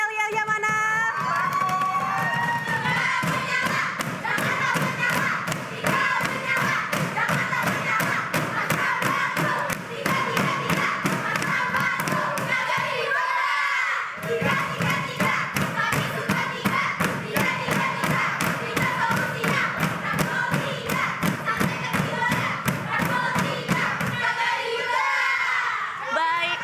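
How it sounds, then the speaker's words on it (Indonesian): Supporters of candidate pair number 3 chant a rhythmic campaign cheer at a regional election debate, loud crowd voices with steady stamping and clapping beats running throughout, with a brief dip midway. "Nomor 3, yel-yelnya mana?"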